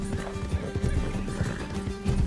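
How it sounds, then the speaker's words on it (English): A spotted horse's hooves clip-clop in a steady rhythm in the Red Dead Redemption 2 video game, with a whinny, close and clear under the game's background sound. "Can we talk about this spotted horse I'm riding?"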